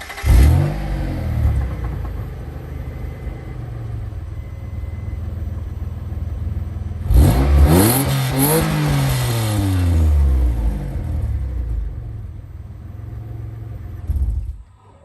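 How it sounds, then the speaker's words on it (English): A Mitsubishi 3000GT engine revs hard and loud with a deep growl from its quad-tip exhaust, rising and falling in pitch through several throttle blips over a steady idle. "why I love this quad tip exhaust so much, here's a clip of how it sounds"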